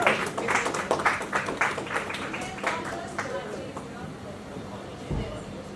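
Crowd at an app launch event clapping for people called to the stage, with chatter mixed in; brisk applause starts loud, then thins and fades over a few seconds, ending in murmur and a low thump.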